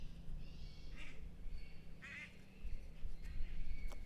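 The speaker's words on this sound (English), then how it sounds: "It just flew by, quacking." A duck quacks as it flies past, several distinct nasal calls spread across a few seconds over steady outdoor background noise, moderately near and fairly clear.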